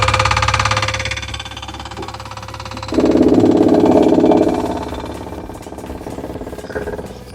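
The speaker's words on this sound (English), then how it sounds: "We're just going to use the suction pump, suck it out straight into this jerry can." A suction pump draws fuel out of an R32 Skyline's tank into a jerry can, a steady mechanical whir and rattle that swells louder partway through, then eases back to a continuous hum.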